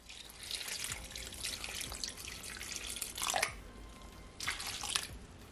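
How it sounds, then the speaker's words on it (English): Water trickles and drips steadily into a pot, with a couple of louder splashing bursts partway through and near the end. "So I'm gonna add at least 2 cups of water."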